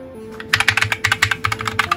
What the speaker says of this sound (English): That's because it's a mechanical keyboard.